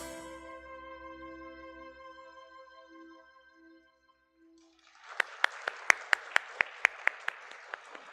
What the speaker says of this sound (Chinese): 我们再次拍手，荣耀归给神